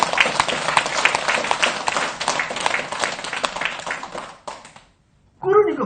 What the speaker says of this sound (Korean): 박수 쳐야지 이거.